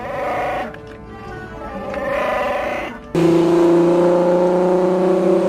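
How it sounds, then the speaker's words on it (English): A Volkswagen Golf R32's VR6 engine on mountain roads gives a loud, sustained exhaust drone. It changes character partway through, rising to a steadier, harder-pulling tone. "The distinct exhaust note as the VR6 engine winds through those mountain roads"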